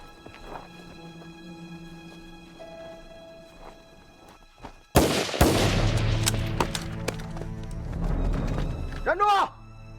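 Gunfire erupts suddenly in a wartime battle between Eighth Route Army soldiers and Japanese troops, loud sharp bursts of shots breaking a quiet musical passage and continuing in scattered cracks.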